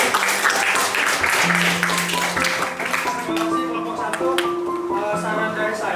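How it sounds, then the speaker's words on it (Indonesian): Audience applause for a group's presentation in a training session starts dense and loud, then thins into scattered claps under overlapping talk and faint tonal sounds. "Kita beri tepuk tangan dulu untuk kelompok 1."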